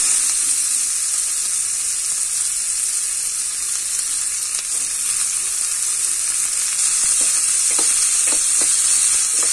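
A single chopped onion frying in a pan with asafoetida makes a steady, even sizzling hiss, with a few soft stirring touches near the end.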